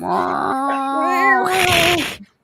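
A cat toy gives out a meow-like electronic call with strong harmonic, pitch-bending tones lasting about two seconds, close and fairly loud, then stops abruptly.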